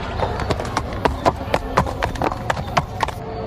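Horse hooves clip-clop in a quick, irregular rhythm of sharp knocks on a hard surface, loud and close, with a faint voice underneath.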